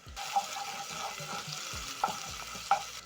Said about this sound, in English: Saute the onions until soft.